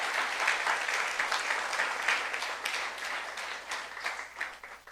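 A church youth congregation claps during a Korean sermon, a steady crowd of hands applauding at moderate volume that gradually thins and fades toward the end.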